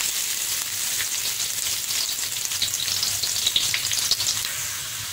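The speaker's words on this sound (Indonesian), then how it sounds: "tumis dulu bawangnya. Kita tumis hingga harum." Onions stir-fry in a hot pan with a close, bright, steady sizzle that crackles and swells slightly in the middle before easing.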